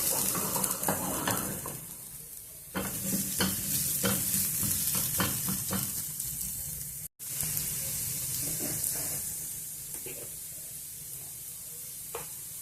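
Radish pieces fry in an uncovered pan with turmeric, a continuous bright sizzle with intermittent stirring scrapes and clinks, loud and close, with a brief break midway.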